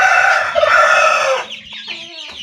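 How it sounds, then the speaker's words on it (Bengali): Aseel chickens, two-month-old birds on a farm, give a loud, close crow-like call lasting over a second, followed by shorter clucking notes, with no talking. "এগুলো অরিজিনাল আসিল মুরগির বাচ্চা"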